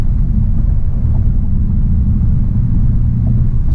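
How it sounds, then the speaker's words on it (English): A synthesized engine note plays inside the cabin of a 2020 VW Jetta GLI, a loud, steady low-pitched drone and rumble without pause. "it has that fake engine noise on the inside"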